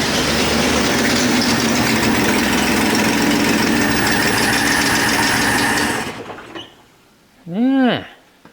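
An abandoned 1962 AMC Rambler engine runs rough with a bad exhaust leak, a loud, steady, ragged rumble for about six seconds before dropping off, then a brief rising and falling tone near the end.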